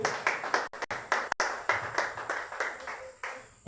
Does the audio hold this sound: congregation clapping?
yes